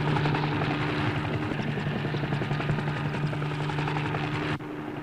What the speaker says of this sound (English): Elephants being herded by a hovering helicopter.